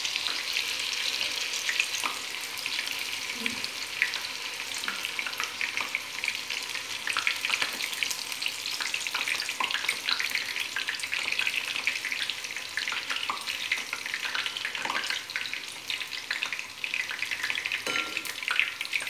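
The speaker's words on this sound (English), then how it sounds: "dip it, take out the excess, and dip it in hot oil" Battered pumpkin flower pakora fry in hot oil, a dense, steady crackling sizzle that runs throughout, close and moderately loud, with occasional brief bubbling pops.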